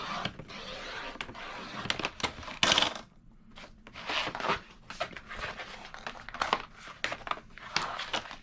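A 12 by 18 inch Dollar Tree placemat has its 1-inch border trimmed away, producing quiet, irregular crinkling and crisp cutting bursts separated by short pauses.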